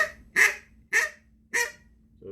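Three loud, close squeals blown on a duck call in the Cajun squeal style, evenly spaced and nasal, each with a sharp rise and a quick fall, with no talking.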